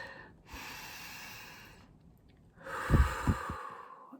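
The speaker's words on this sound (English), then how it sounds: "Now take a deep breath" Two long, deep breaths close to the microphone, a slow inhale followed after a pause by another full breath ending in a couple of soft thumps.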